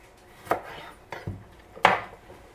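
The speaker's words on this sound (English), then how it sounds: "Just cut off the ends, and then you're going to cut it into quarters." A knife cuts a tomato into quarters on a cutting board, producing four close, distinct thuds and taps at irregular intervals.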